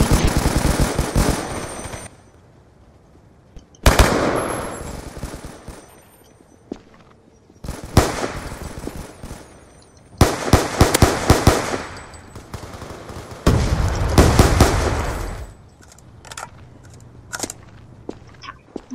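Bursts of machine gun fire in a combat video game, loud and close, coming in several long rapid volleys separated by short pauses, with scattered single shots and softer thuds between them.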